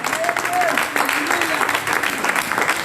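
Steady applause from a church congregation fills the space, with a voice leading acclamation over the clapping throughout.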